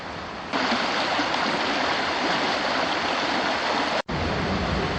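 A waterfall and stream deep in the woods of Hickory Run State Park in the Pennsylvania Poconos make a loud, steady rushing roar. It swells in after half a second and keeps going with only a momentary dropout near the end.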